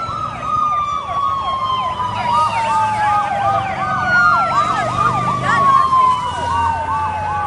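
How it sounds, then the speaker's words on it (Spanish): Ambulance siren wailing steadily and loud throughout, its rising and falling sweeps sliding lower in pitch as it passes, during a Costa Rica cycling race after a motorcyclist crash, with traffic rumble beneath. "la ambulancia debería de venir ahí"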